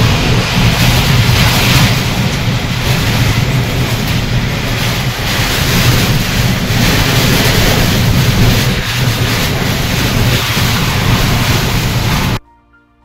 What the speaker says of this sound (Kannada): ಇಂಥ ಗಾಳಿ ನೋಡಿರ್ಲಿಲ್ಲ